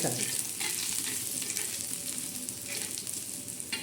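Sliced onions frying until dark in a pan, a continuous loud sizzle and crackle with occasional stirring scrapes throughout.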